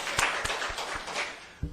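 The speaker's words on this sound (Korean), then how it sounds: "박수 한번 하겠습니다." An audience at a church lecture gives a short round of clapping to welcome a first-time visitor, with a few distinct, spaced claps standing out over a thin background of hands.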